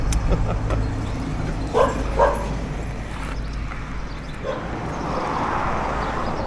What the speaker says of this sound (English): Oh, look, another dog.